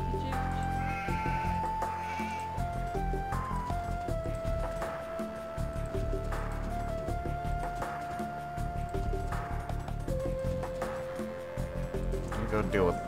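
Sheep bleat in the Age of Empires 2 video game over a dense bed of game music and sound effects, the bleats short and moderately loud amid steady in-game activity.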